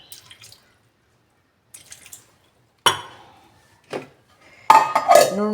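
Water is added to gooseberries for a juice, short splashes and drips in separate bursts with clinks of a jar or vessel, close and clear in a quiet kitchen.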